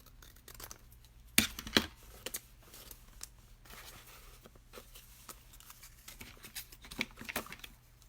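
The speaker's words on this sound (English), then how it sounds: "And I am going to cut this in half." Crisp snips of scissors cutting a paper circle in half for a Halloween shutter card, a few sharp close cuts near the start and scattered lighter rustles and taps of paper afterward, no talking.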